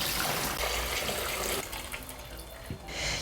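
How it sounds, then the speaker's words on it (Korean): Cooled salt brine poured over cucumbers for traditional Korean oiji pickles, a steady close splashing stream of liquid that runs continuously and eases off near the end. "이제 요 소금물을 오이에다가 부어주세요"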